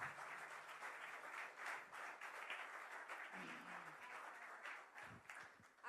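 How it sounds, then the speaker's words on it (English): Audience applause at an awards ceremony, a steady wash of many hands clapping that holds at moderate level for several seconds, with no talking. "So a big round of applause for all our international friends."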